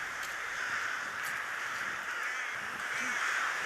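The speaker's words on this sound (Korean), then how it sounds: "이제 떼까마귀가 잠자리인 대숲으로 들어가기 시작하는데요" Rooks caw faintly in the distance as they fly into a bamboo grove to roost, over a steady wash of noise, a few scattered calls rising above the constant background.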